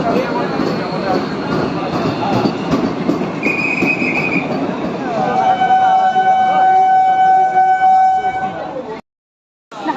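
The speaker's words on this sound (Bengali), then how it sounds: "এখন নর্মাল লোকাল ট্রেন চলছে" A local train on the Sealdah–Ranaghat route near Dum Dum station rumbles along steadily, loud and close, with wheel squeals and a sustained horn-like tone riding over the clatter before a sudden cutoff.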